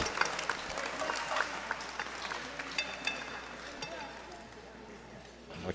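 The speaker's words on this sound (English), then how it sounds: "A round of applause for Mr. Belak." Scattered applause from spectators at a softball game at the National Veterans Wheelchair Games sounds fairly distant and faint beneath ongoing announcer commentary.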